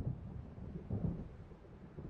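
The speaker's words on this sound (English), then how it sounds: "It seems there's a storm coming." Thunder from an approaching storm in the video game Alan Wake Remastered, a low, soft rumbling roll that swells and fades over a couple of seconds with no voices.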